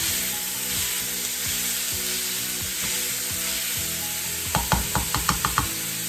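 Ground meat for Sloppy Joes frying in a pan, a steady close sizzle throughout with light scraping stirs, ending in a quick series of sharp clicks or taps.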